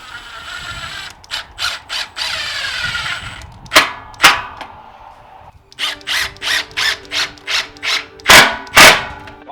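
A power tool drives 2.5-inch deck screws into decking boards in a series of short bursts, repeated ratcheting drives with brief pauses between, close by and fairly loud.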